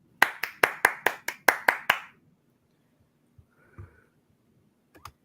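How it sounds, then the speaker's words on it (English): About ten sharp, evenly spaced hand claps in quick succession, close and crisp, followed by quiet with a faint breath or sniff and a small knock. "Clap."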